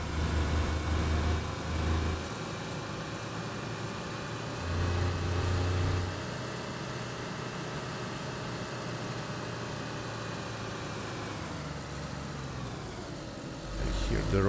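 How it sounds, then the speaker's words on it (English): Game vehicle engines in DayZ on a wooded road, a steady loud hum running throughout with low rumbling swells, plus a few brief surges near the start and end. "The engines in DZ, they're a little bit too loud."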